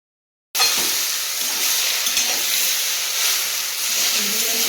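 Spinach fries in a pan with vegetables while being stirred, a loud hissing sizzle that bursts in after a moment of silence and continues steadily close by, with faint scraping of the spoon underneath.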